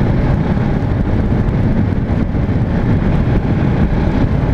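Steady low rumble of a Husqvarna 701 Vitpilen motorcycle engine while riding, with constant wind buffeting over the microphone and no talk.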